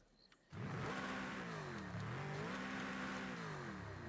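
A Noble M600 sports car engine in Forza Horizon 5 revs up after a short quiet start, then holds a loud, steady, whirring drone with small pitch swells, alone with no voices.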